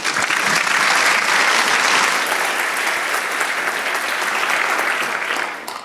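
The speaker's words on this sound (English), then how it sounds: "please give a big round of applause for Laura and Stephen" An audience at a tech conference talk on container orchestration gives a big round of applause for two speakers, a dense, loud burst of many hands that holds steady and then tapers off at the end.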